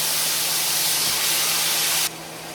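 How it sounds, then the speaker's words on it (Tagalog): A loud, steady sizzling hiss of steak frying in a hot pan fills the clip, dropping abruptly in intensity near the end. "magprito lang tayo ng steak"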